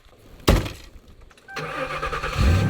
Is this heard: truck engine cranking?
yes